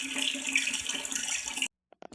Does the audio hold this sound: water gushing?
yes